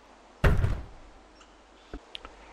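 A wooden board dragged and dropped in Life Is Strange, making one heavy close thunk with a short scrape, followed by a couple of faint light taps.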